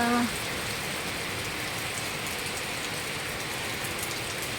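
Steady rain pours down in a dense, even hiss that continues without a break, fairly loud and close throughout.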